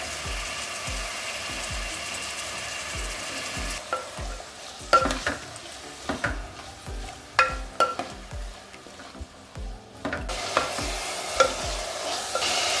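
Three medium onions, roughly chopped, fry in oil in a pan with a low steady sizzle, punctuated by rhythmic scraping and clinking stirring strokes, close with no talking.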